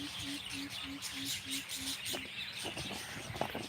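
Small birds chirp outdoors on a morning walk, a quick run of evenly spaced tweets followed by scattered calls, faint and somewhat distant under low background noise.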